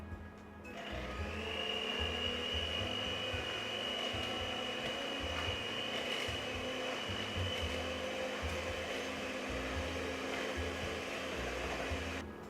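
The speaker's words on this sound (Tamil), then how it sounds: "அதையும் ஆட் பண்ணிவிட்டு இன்னும் ஒரு நிமிஷம் அதை பிளெண்ட் பண்ணுங்கள்." Electric blender whirring steadily while mixing sugar and eggs for Sri Lankan wattalapam, a constant motor drone that starts abruptly and runs evenly for about twelve seconds, fairly quiet, with no talking.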